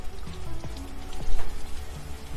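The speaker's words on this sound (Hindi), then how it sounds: "बारिश होने लगी यार" Rain falling in an Attack on Titan anime episode, a steady close patter of drops across a short stretch, with a faint low tone underneath and no talk.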